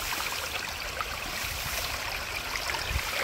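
Water flowing at a small rural waterfall, a steady broadband rush with a faint trickling, gurgling texture, continuous and moderately loud, with no talking.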